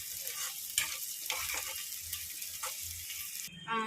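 Onions and green chillies fry in a pan with a soft hiss as a spoon stirs and scrapes through them, close and moderately quiet, ending with a louder clatter.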